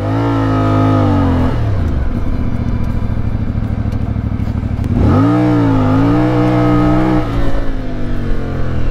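CF Moto 450 MT or 800 MT Explore adventure motorcycle ridden off-road, the engine revving up and easing off in two strong throttle pulls, loud and close with a gritty rumble.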